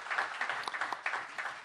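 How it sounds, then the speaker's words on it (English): Meeting audience clapping for an honoree being called forward, a dense, steady patter of many hands at moderate distance, fairly soft and continuous with no voices over it. "give her a round of applause."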